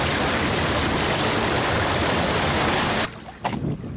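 Water rushing loudly and steadily as a cod is towed alongside a fishing charter boat off Mackay, a broad continuous wash that cuts out abruptly near the end, leaving quieter splashes.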